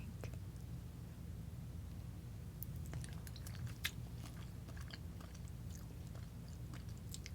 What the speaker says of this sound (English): now I gotta see what these little noodles taste like